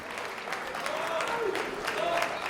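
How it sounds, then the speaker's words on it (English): A crowd applauds steadily at a bare-knuckle fighting event, with dense continuous clapping and scattered cheers and whistles mixed in. "Can we get a round of applause here for the King of Violence?"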